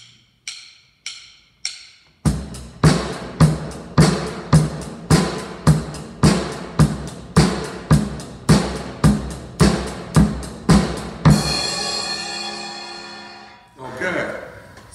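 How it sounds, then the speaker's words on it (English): A basic rock drum beat with the bass drum on all four beats, steady strokes ringing out for about nine seconds after a few lighter lead-in hits, then a crash or cymbal wash that fades, followed by a brief low sound. "A variation is having the bass drum play on all four."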